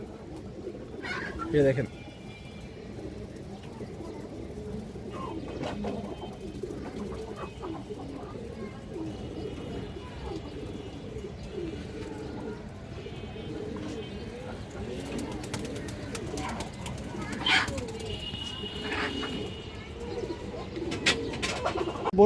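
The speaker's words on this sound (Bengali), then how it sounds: "এই দেখেন দর্শক হাই ফ্লায়ার কবুতর" High flyer pigeons coo in soft, repeated bursts close by, with a few chirps and rustles among them, while someone talks over the birds throughout.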